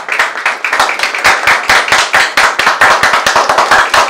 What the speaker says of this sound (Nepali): कृपया जोरदार ताली तालीको कमी नहोस् है।